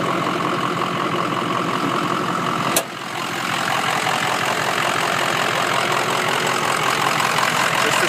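A 2004 Ford F350 Power Stroke 6.0-liter turbo diesel engine runs at a steady, loud idle with a rough, knocking rumble and a brief sharp click partway through.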